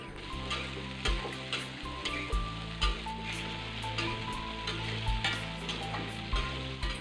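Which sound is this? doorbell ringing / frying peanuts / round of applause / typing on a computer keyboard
frying peanuts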